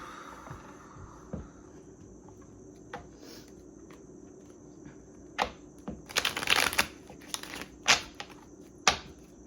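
Tarot cards being shuffled and pulled, with soft papery rustles that build into a dense burst of shuffling near the middle, followed by a few sharp card snaps, close and fairly quiet, with no talking.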